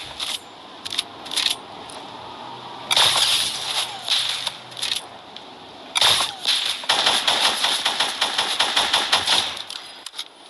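A SCAR assault rifle is fired in a shooter video game, with single shots and short bursts followed by a long rapid volley of sharp, close cracks over a quiet background.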